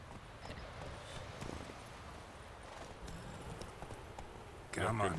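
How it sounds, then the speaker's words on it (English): Horse hooves clopping along in the video game Witcher 3, a quiet rhythmic trot beneath a faint game soundtrack, with a louder burst at the end. "Oh wait, I should probably use my horse."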